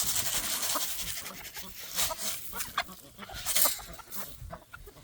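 Chickens cluck on a farm in cold weather, a busy scatter of short calls over a rustling, breezy background, near and moderately loud.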